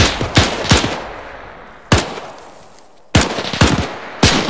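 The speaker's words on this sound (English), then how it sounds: "And is that MG42 to our east?" MG42 machine gun fire in the video game Arma 3, in a World War II battle: several loud, close bursts of rapid shots with echoing tails, separated by short pauses.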